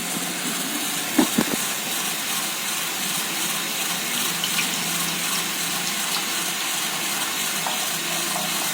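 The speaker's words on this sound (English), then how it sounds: "The water is coming through the pipe" Water rushes steadily through the pipe of a small Bluetooth-controlled cleaning robot, a constant hissing gush with a few faint clicks near the start and no voices.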